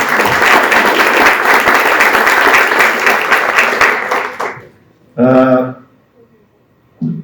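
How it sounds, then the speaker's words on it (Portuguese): Applause from a conference audience fills the room for about four seconds, dense and steady, then fades out; a brief burst of speech follows after the clapping dies away. "Salve de palmas, gente, por favor"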